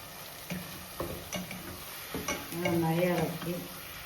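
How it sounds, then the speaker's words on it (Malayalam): Pressure-cooked chicken stirred in a hot sizzling pan, a soft ongoing sizzle broken by repeated scraping and knocking strokes of a spoon, and a voice speaking briefly partway through. "ഇപ്പോൾ ചിക്കൻ ഇട്ടു, നന്നായി ഇളക്കി"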